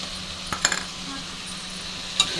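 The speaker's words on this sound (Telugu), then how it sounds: "టమాటా వేస్తాను. ఒక టమాటా బాగా పోసేసుకోవాలి." Tomatoes and curry leaves fry in a pan with a soft, steady sizzle, broken by a few sharp clinks of a spoon stirring against the metal.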